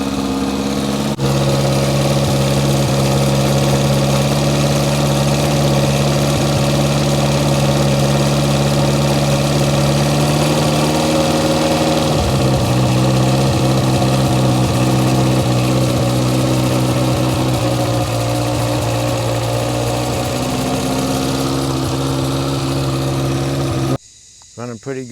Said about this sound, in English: Running pretty good, considering we haven't pulled the carburetor apart.